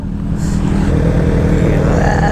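Several motorcycles, among them a Kawasaki Z900 SE, rumbling together near Kaybiang Tunnel, a continuous loud engine drone with rising revs toward the end; a voice can be heard faintly underneath.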